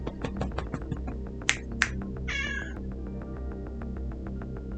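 A cat meows a few times in Final Fantasy XIV Endwalker, with high, drawn-out calls heard clearly over a steady game soundtrack with rhythmic ticks and a couple of sharp clicks.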